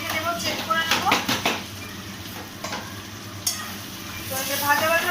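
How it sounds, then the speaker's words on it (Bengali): Spices fry in a pan in a home kitchen and get stirred, giving a soft sizzle under scraping and clinking of a utensil against the pan, with a louder spell of stirring at the start and again near the end. "তো দেখো আমার অল্প ভাজা ভাজা হয়ে গেছে"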